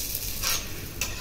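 A layered parotta cooks in butter on a tawa over low-medium flame, a soft close sizzle broken by two brief bursts of hiss, without speech.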